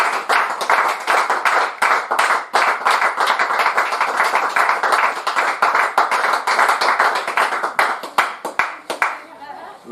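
Spectators at a school cricket match between Sherborne School and Clifton College first XIs clap for a batsman reaching fifty, a sparse group of individual hand claps with uneven rhythm, fairly close, tapering off toward the end.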